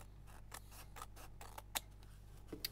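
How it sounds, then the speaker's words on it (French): Several quiet snips of small scissors trimming excess fabric from a sewn bookmark patch, spaced unevenly over a low steady hum, with one sharper cut standing out. "je prends la petite paire de ciseaux et je viens couper le surplus"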